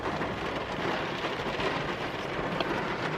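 Heavy rain pelting window glass on a stormy day, a dense, steady hiss of drumming drops, close and continuous with no voices.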